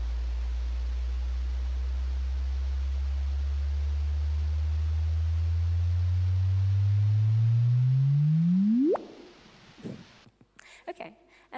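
A simulated gravitational-wave signal rendered as sound: a steady low tone hidden in hiss that slowly rises in pitch and loudness, then sweeps sharply upward into a brief chirp before cutting off, with faint sounds afterward.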